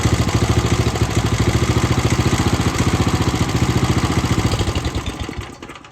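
A small 70-year-old lawn mower engine chugs in a fast, even putter, loud and close, easing off and fading near the end.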